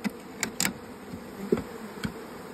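Honeybees from a package being installed into a hive buzz at low level throughout, with several brief louder passes and bumps standing out against the steady drone.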